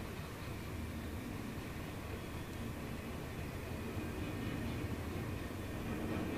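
Steady, continuous rumble of a train rolling past nearby, a broad wash of rail noise that holds level throughout with no talking.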